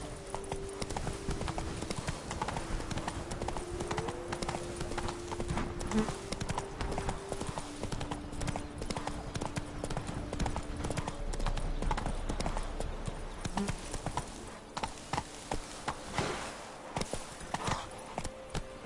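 Video game horse Roach running, a rapid, steady clip-clop of hooves close up that carries on throughout, a brief snort or whinny partway, with a faint voice now and then.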